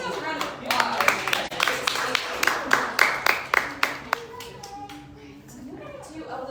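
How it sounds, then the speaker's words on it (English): Children at a library story time clap along in a round of applause, a burst of sharp, uneven hand claps close by that thins out and fades toward the end, with an adult voice speaking over it. "Give yourselves a round of applause."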